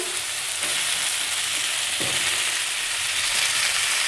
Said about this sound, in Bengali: পেঁয়াজ দিয়ে দিলাম, নেড়ে নেব, খুব বেশি ভাজবো না।